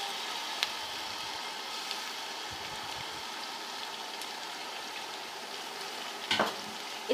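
Garlic-ginger paste frying with onion paste in a pot for Sindhi beef biryani, a steady close sizzle and crackle that runs the whole time, with a few stirring scrapes and knocks near the end.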